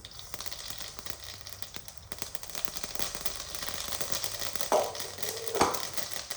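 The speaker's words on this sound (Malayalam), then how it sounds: "കടുക് പൊട്ടിയാൽ നമ്മുടെ" Mustard seeds spluttering in hot oil in a pan for upma: a faint continuous crackle with a few sharper pops near the end, close and quiet with no talking.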